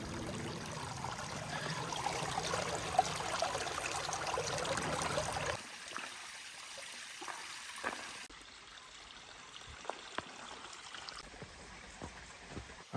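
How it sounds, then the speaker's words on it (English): Small cascade of water tumbling through a river on a Bay Area hike, a steady broadband rush loud for the first five seconds, then a quieter, thinner trickle with occasional splashes, no talking. "It's more of a small cascade in a river"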